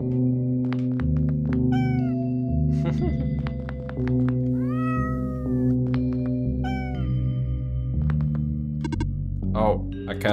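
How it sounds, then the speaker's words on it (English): Several in-game cats in OneShot meow repeatedly in a warm underground room, their rising and falling calls coming clear and close over a steady droning musical backdrop, with a few dull thunks between them. "Ooh, cats."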